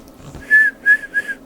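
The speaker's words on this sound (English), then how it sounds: "and I whistle" A person gives three short, bright whistles into the microphone of a Yaesu FT-840 radio transceiver, each note rising and falling cleanly over a faint background hum.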